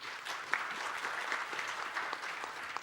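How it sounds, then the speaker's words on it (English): Audience applause for panelists at the Future China Global Forum 2025 in Shanghai, a dense, steady clatter of many hands clapping for about three seconds with no voices over it. "A round of applause, please."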